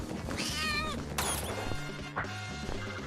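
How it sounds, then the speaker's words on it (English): Cat pain noises in the video game Super Catboy, a couple of sharp pained meows and yowls with a crashing impact between them, loud and close over background game music. "new cat pain noises unlocked"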